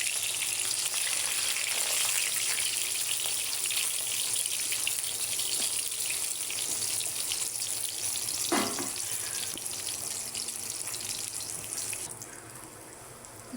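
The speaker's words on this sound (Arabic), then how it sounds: "البنات بلشنا هنا حمل الدهن، نبلش نقلي الباذنجان." Eggplant slices frying in hot oil for a Ramadan iftar meal, a loud, dense, continuous sizzle close by, with a brief clink partway through and the crackle easing slightly near the end.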